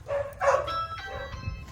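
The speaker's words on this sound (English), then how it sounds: "These dogs are really friendly. They're golden retrievers." Friendly golden retrievers bark and yip close by outside a pizza shop, a short burst of excited barks over street noise.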